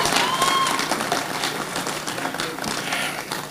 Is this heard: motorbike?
no